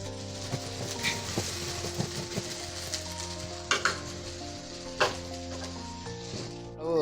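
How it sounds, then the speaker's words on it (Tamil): Eggplant and okra sauté in a pan with a steady close sizzle, broken by scattered clinks and scrapes of a spoon against the metal, with no speech. "அந்த வெஜிடபிள் கொஞ்சம் நல்லா சோட் ஆகட்டும்"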